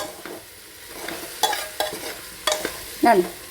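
Onions sauté in oil in a pan with a soft background sizzle, broken by a few sharp scraping strokes of a spoon stirring, close and clear, without any voices.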